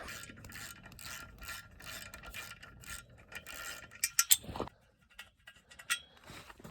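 Wrench ratcheting and metal parts clinking as a clutch pressure plate is unbolted from a truck engine being restored, steady mechanical clicking with a few sharp clinks near the end, no talk.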